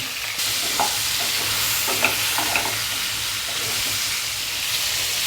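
Vegetables, potato and pointed gourd, fry in a little oil in a pan with a steady close sizzle, light spattering and a couple of small clinks, and no one speaking.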